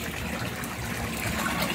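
Water runs continuously through an aquaponics system with mechanical and bio filters, a steady close trickling and gushing flow with no talk over it.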